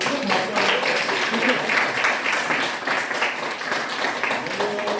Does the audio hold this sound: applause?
yes